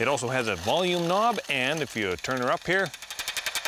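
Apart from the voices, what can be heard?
bat echolocation clicks through a bat detector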